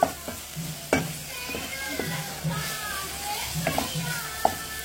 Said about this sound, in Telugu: హై ఫ్లేమ్ లో తిప్పుకుంటా ఉన్నాం.